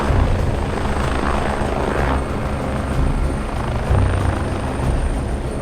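Air ambulance helicopter lifting off after a call to a motorbike rider hit by a car, its rotor and engine roar loud and close, a steady heavy chop throughout with no voices.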